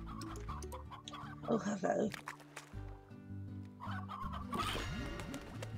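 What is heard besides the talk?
chickens clucking in the video game Slime Rancher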